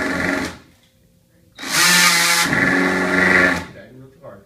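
A power drill whirs in two bursts, one short and one sustained for about two seconds, with people talking between and around them.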